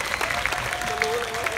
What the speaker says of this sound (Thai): ปรบมือให้ครูต่อรักหน่อยค่ะ